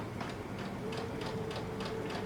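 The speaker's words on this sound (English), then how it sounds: "I'm just going to do a basting stitch for the purpose of this tutorial." A basting stitch being sewn on fabric with a 5/8-inch seam allowance: a steady, soft, evenly spaced ticking that repeats several times over a constant low hum, close and quiet.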